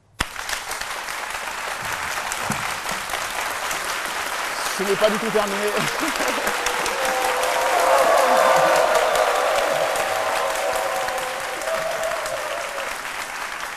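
Sustained applause from a crowd, swelling to a peak midway, with a voice speaking briefly over the clapping.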